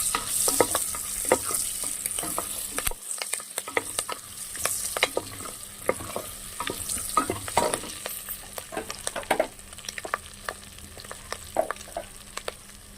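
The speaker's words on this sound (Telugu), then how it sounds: "ఇప్పుడు వేసుకోవాలండి ఇందులో దాల్చిన చెక్క, లవంగాలు, బిర్యానీ ఆకు, రాతి పువ్వు, యాలక్కాయ" Whole spices (cinnamon, cloves, bay leaf, stone flower and cardamom) sizzle and crackle in hot oil in a pressure cooker while being stirred, with steady frying hiss and frequent clicks of the spoon against the pot, for egg biryani.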